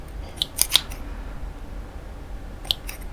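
Scissors snip stray wispy edges off a handmade Christmas decoration for a picture frame, giving a few quick, crisp close-up cuts in quiet surroundings.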